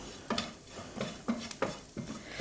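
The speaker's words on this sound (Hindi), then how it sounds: "कसूरी मेथी को डाल के हमें अच्छे से भून लेना है" Kasuri methi roasting in a pan while a spoon stirs it, with rhythmic scraping strokes and light clinks against the metal repeating about every half second over a faint sizzle, close and quiet.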